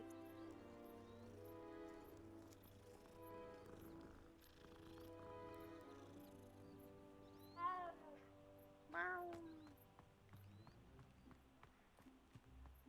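A cat in the video game Hogwarts Legacy lets out two distinct meows a second apart, clear over soft game music and ambient sounds, with no talking.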